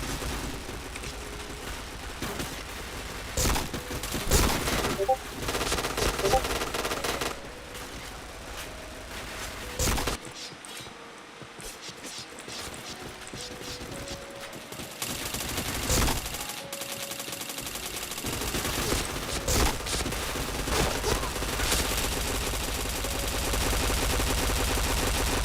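Gunfire in a shooter video game: dense bursts of rapid automatic shots and single cracks, loud and close, with brief lulls between volleys.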